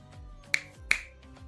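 Two crisp, close finger snaps ring out about a third of a second apart, sharp and distinct over a faint hum, with no one speaking.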